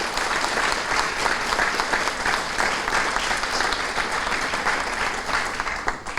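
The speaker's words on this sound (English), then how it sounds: "if I could go ahead and get a round of applause for these young men and women" An audience at a school military recognition ceremony gives a sustained round of applause, with dense, even clapping from many hands filling the room and fading slightly at the end.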